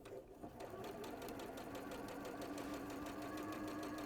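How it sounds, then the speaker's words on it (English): Sewing machine stitching batik fabric, a steady fast mechanical whirr with even rhythmic knocking that runs for the whole stretch at low volume, with no talking over it. "And I just need to stitch this in place."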